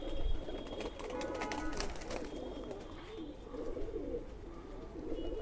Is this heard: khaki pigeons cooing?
yes